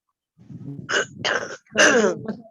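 Three or four harsh, bursty human coughs close by, the last one loudest, with a short throat-clearing rasp after.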